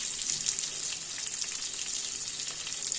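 Capsicum, ginger, garlic and green chili fry in a pan with a steady, close hiss of bubbling oil that stays even throughout without pause.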